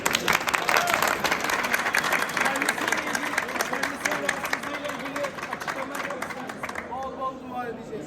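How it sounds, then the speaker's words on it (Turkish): An audience at a film premiere applauds actor Aydemir Akbaş, a sustained wash of many hands clapping with crowd murmur and voices underneath, easing off toward the end. "Alkışlarımız Aydemir abiye lütfen"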